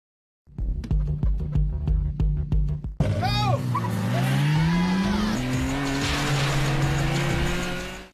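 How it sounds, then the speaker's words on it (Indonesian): Nissan GT-R and Toyota AE86 racing in an Initial D film scene: a loud, close engine climbs steadily in pitch over a rushing roar, with brief tire squeals, after a stretch of rhythmic pulsing. "Nissan GT-R yang unggul speed di jalan lurus meninggalkan Toyota AE86 milik Takumi."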